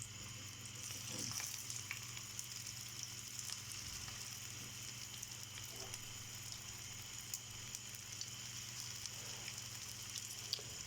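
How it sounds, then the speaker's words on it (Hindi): Potato tikki patties shallow frying on a hot tawa, a faint, steady sizzle with soft crackles held at a low level throughout, no voices. "ये हमने शैलो फ्राई करनी है।"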